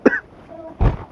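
A man gives two short, sharp coughs about a second apart, close to the microphone, with quiet room tone between them.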